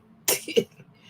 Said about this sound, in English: All of a sudden, I just start coughing out of nowhere.